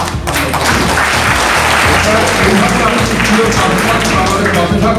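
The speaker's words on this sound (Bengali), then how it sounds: "একটু হাততালি দিয়ে" An audience at a Sovanagar High School gathering claps for the chairman, producing a loud, dense, continuous round of applause with occasional thumps, and no speech over it.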